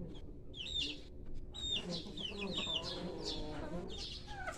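Newly hatched chicks from store-bought brown eggs, a cluster of high, thin peeping chirps repeating in quick bursts close by, over a low background murmur.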